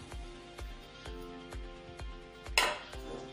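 A spoon scrapes jaggery and atta cake mixture out of a mixer bowl in a home kitchen, giving a steady series of about seven sharp metallic taps and scrapes with one louder clatter near the end.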